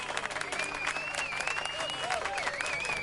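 A theater audience in The Witcher 3 applauds after a play: dense, sustained clapping from a crowd, fairly loud, with a voice calling out over it.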